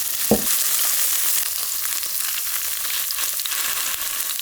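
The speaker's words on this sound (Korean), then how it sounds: "이렇게 노릇노릇할 때까지 구워서 불을 끄고 두부를 식혀주세요." Tofu frying in oil in a pan gives a steady, loud broadband sizzle throughout, with a brief sharp clatter near the start and no talking.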